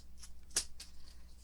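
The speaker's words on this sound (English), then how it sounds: "So just grab my scissors here and cut this one down," Scissors cutting a wooden paint stick for a DIY Christmas decoration, a quiet close snip with one sharper crunching cut in the middle of soft handling noise.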